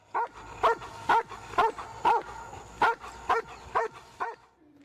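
A dog searching dense woodland during a training exercise for finding hidden people barks repeatedly, about ten loud, evenly spaced barks close by, with quiet gaps between them.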